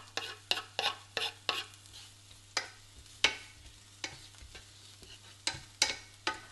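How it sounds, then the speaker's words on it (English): Onions frying in a pan, with a quick run of crisp spatula taps and scrapes at first, then sparser knocks over a faint sizzle and a low background hum, close by and unaccompanied by speech. "I'm going to put here the onions in and going to fry that"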